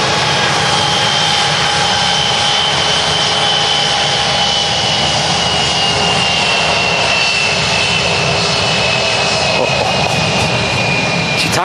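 A 23-year-old Lufthansa Airbus A321 jet taxiing quickly at Manchester Airport, its steady engine whine and high tones droning close and loud throughout, with no one speaking.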